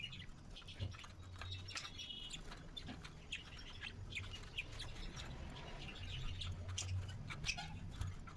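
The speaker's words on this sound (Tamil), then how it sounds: "லவ் பேர்ட்ஸ் இருக்குது" Lovebirds in a park give faint, scattered chirps and tweets, repeating irregularly over a low, steady background hum.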